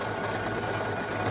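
Poolin EOC06 embroidery machine stitching at close range, a fast, even mechanical whir with a steady rhythmic hum and no pauses.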